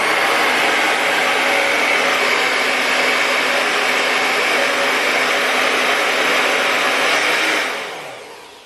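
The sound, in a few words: hair dryer with diffuser drying curly hair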